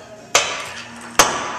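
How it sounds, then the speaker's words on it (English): Two sharp metallic impacts about a second apart, a slide hammer banging on the sheet metal of a tank shell, each strike loud and close with a bright ringing decay. "I use this thing called a slide sledge. It's actually just a slide hammer"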